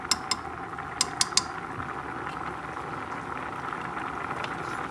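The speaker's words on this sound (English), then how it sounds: "I'm going to turn the heat down because it's boiling." A pot of rice with pork feet, seasoned with smoked paprika, bubbles steadily on a stovetop as a soft continuous simmer, with a few sharp clicks early on.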